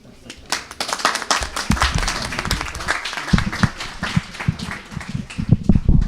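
An audience applauds steadily, many hands clapping in a dense, continuous wash that builds and stays strong throughout.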